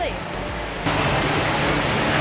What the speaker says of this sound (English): Oh, we get the top-down view of the waterfall.